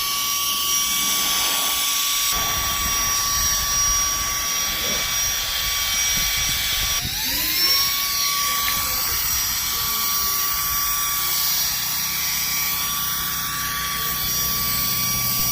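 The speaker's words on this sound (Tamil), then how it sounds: "ப்ளோயரை வச்சு இந்த மாதிரி ஏசி வெண்ட்லாம் நீங்கள் க்ளீன் பண்ணிக்கலாம்." A Portronics Mopcop 4 handheld car blower runs steadily, a loud, high-pitched electric whine and rushing airflow held throughout with slight shifts in pitch.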